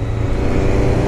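A Honda CB300R motorcycle running without an air filter roars loudly and steadily close by, a dense low engine drone throughout the short stretch.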